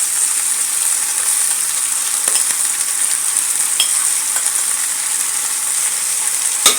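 Chicken pieces and onion frying in a pan, giving a steady, loud sizzle throughout with a few faint clicks and stirring sounds, and no talking.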